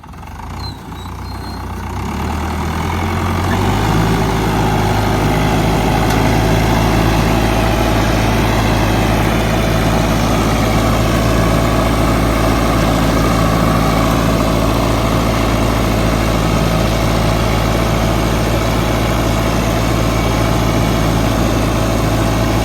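An imported Agri Master 804 YTO tractor engine starts up and settles into a loud, steady low rumble with a constant drone, close and running alone for the whole stretch.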